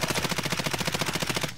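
Rapid automatic gunfire in the Warzone video game, a steady stream of evenly spaced shots that is loud and continuous for over a second, with no talk over it.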